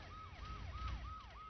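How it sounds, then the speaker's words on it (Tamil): A siren wails in steady rising-and-falling sweeps, about four cycles in a second and a half, moderately loud over a low rumble, with no talking. "சைரன் அலறுது பாரு"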